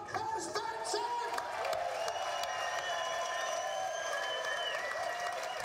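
Motor-racing spectators at the Le Mans 24 Hours cheering and applauding, a steady distant wash of clapping and crowd noise from a very large audience.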